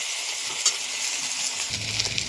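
Ginger paste and four green chillies fry in hot oil with a steady, close sizzle. Soft stirring clicks sound throughout, and a low rumble joins in near the end.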